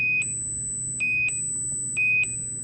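A prototype alarm sounds a piercing 2,500 hertz electronic beep three times at a steady one-second rhythm, each tone short and bright over a faint low background hum.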